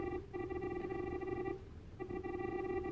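A telephone rings in the retro detective game Famicom Detective Club, two long electronic ringing bursts separated by a short pause, clear and steady with no talking.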